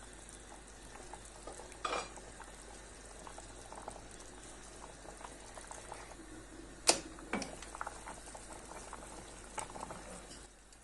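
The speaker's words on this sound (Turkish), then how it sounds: "Artık çorbamız kaynıyor." Chickpea and vermicelli soup bubbles and simmers in a pot, steady and low, with a couple of sharper clinks partway through.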